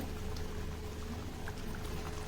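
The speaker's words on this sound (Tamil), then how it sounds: "இப்போ இது ஒரு ரெண்டு நிமிஷம் கொதிக்கட்டும்" Low, steady bubbling and simmering of a thick, spicy potato masala in a pan, continuous and close, with occasional soft pops.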